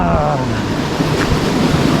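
The Kottappuzha river flows through forest, making a steady, loud rushing wash of water close by. It continues without a break, with a faint tonal hum near the start.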